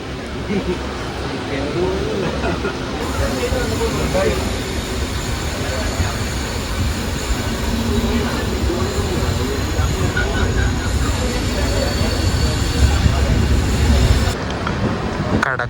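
The Antyodaya Superfast Express rumbles steadily along the rails from Thiruvananthapuram North, a continuous heavy roar with rattling carriages, heard from on board for the whole stretch.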